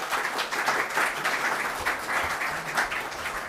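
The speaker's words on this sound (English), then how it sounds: "So please give us a round of applause." A conference audience applauds to welcome a presenter, a continuous, fairly even wash of many hands clapping throughout, with no voices over it.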